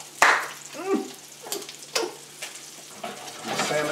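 Butter sizzling in a pan with purple fingerling potatoes, garlic and Parmesan: a close, crackling fry that flares in short bursts and then settles, with faint clatter between the bursts.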